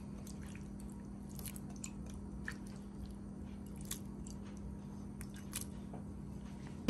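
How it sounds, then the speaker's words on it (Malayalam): Wet squishing and soft smacking as raw prawns are rubbed with masala by hand in a home kitchen, faint and close, with scattered sticky clicks over a steady low hum and no talking. "മസാല കൊണ്ട് ഇത് നന്നായിട്ട് പുരട്ടിയെടുക്കാം."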